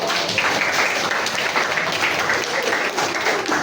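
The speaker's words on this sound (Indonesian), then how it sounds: "Tepuk tangan dulu" Applause from a classroom group during a teaching practice session, lively uneven clapping from many hands close by, sustained for several seconds at steady strength.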